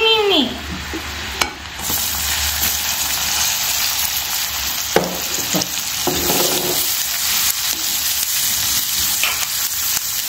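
Chopped onion sizzles loudly in butter in a pan for Indian-style pasta, a constant fry punctuated by a spoon stirring and scraping against the pot, plus a few sharp clinks.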